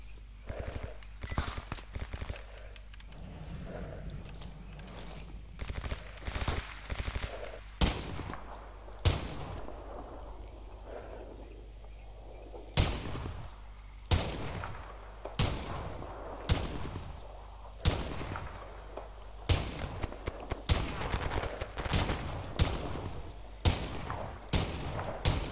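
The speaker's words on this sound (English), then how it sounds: "he's shooting at me." Enemy gunfire in the S.T.A.L.K.E.R. Anomaly game, repeated sharp shots at varying distances, some in quick bursts, others single cracks spread across the span, with occasional faint speech.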